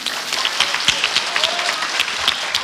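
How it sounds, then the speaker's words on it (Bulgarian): Audience applause at a concert, a dense, steady wash of clapping that stays at an even loudness throughout, with no voices standing out. "Аплодисменти!"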